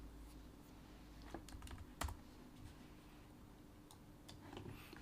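Computer keyboard typing heard quietly and fairly close, with scattered irregular key clicks and one firmer tap over a low steady hum.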